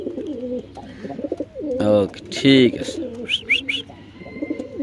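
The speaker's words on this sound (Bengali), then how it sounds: "কবুতরের ডাকটা দেখাই দিন" Pigeons in a breeder's loft, a male and female pair with the hen sitting on eggs, give a few short cooing calls mixed among close conversational voices.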